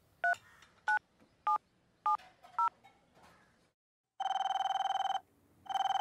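Telephone keypad tones punch out five distinct, evenly spaced beeps, followed after a short pause by loud electronic ringing bursts, all clear with no voices over them, in a scene from a Tamil action thriller film.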